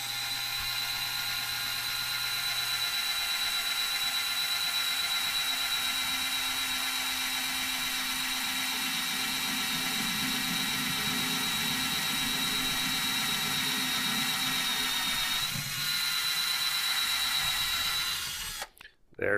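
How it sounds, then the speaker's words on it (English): A power drill whines loudly and steadily for most of the clip, boring a pilot hole in a battery charger case, then cuts off abruptly near the end. "So what we got to do is drill our pilot hole first."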